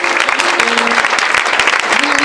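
A church congregation claps loudly and continuously in praise, dense rapid applause filling the room with voices faintly mixed in.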